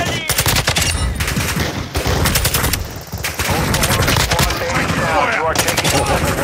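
Sustained machine gun fire rattles in a video game, dense rapid bursts with brief pauses, loud and close, while a voice speaks over the shooting.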